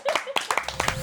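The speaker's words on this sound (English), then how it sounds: "Round of applause." A short round of applause from a few people in a podcast setting, a handful of distinct close claps in an uneven rhythm over about a second.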